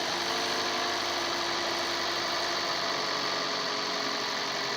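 A 2004–2009 Toyota Prius engine idles steadily after a throttle body cleaning, a continuous close mechanical hum with broadband vibration and no voices.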